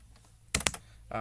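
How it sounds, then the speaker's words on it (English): Quick bursts of computer keyboard typing, a few sharp clustered keystrokes close by, followed by a brief low hum. "this thing can't keep up with my lightning fast typing"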